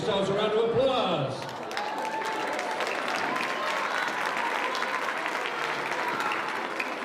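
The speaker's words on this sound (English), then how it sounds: "Give yourselves a round of applause." An audience in the Fine Arts Center claps through a steady round of applause at a holiday-season school event, beginning under a brief spoken voice and then continuing alone at an even level.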